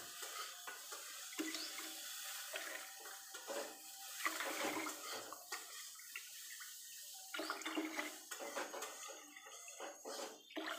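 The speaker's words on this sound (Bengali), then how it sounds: "এবার আমি জল দেব। 5 কাপ যেহেতু চাল দিয়েছি সেহেতু 10 কাপ জল দেব।" Water poured into a pot of rice already fried in ghee, a steady splashing pour with clinks of the pot and stirring, fairly close and continuous with no talking.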